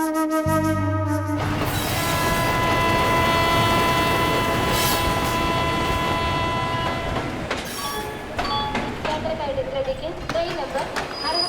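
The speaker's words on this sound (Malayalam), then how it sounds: "6343 തിരുവനന്തപുരത്ത് നിന്നും പാലക്കാട് ടൗൺ വരെ പോകുന്ന അമൃത എക്സ്പ്രസ്" Amrita Express, train 6343 from Thiruvananthapuram to Palakkad Town, at a station: a loud, steady rumble of the train with tonal hum and squeal, and a short deep horn-like tone at the start, continuing without pause.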